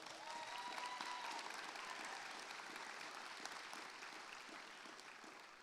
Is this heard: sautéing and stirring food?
no